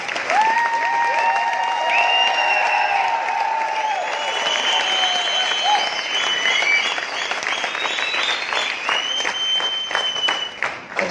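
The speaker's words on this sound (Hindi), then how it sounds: "तालियां इधर से ज्यादा बज रही है, इधर से नहीं बज रही।" A sustained wave of dense clapping and cheering from a big audience at a Mi Diamond Executive event, loud and close, with whistles and shouts riding over it before the clapping thins slightly near the end.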